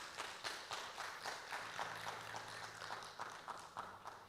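A church congregation applauds during a worship service, a steady wash of many hands clapping at moderate distance with a faint sustained low tone underneath.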